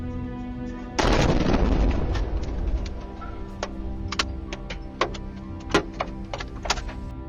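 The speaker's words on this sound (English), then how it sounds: "the explosion rocked the earth and fractured windows in the vicinity" An explosion in Dnipro, Ukraine, caught on a car dashcam: a sudden loud broadband boom that rumbles and decays over a couple of seconds, followed by scattered sharp clicks and knocks.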